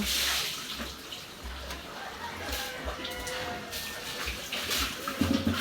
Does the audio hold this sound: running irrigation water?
yes